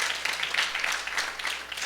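Church congregation at an evening prayer service clapping in a brief, lively round of applause, fairly close and unbroken, with no voice over it.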